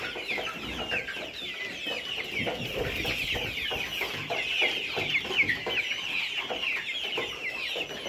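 A shed full of layer hens clucks continuously at close range, a dense chatter of overlapping calls and squawks with no talking.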